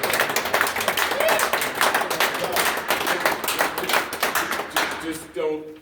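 A small group claps in a close, brisk burst at a recently renovated senior center visit with the mayor and a councilman, with voices mixed in before the clapping stops and someone speaks.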